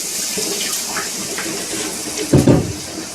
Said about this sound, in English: And put in a little water, right?